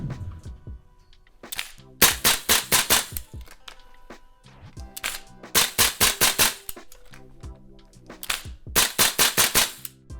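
A GBRS Hydra rifle fires rapidly in three quick strings of sharp, loud, close shots, separated by short pauses.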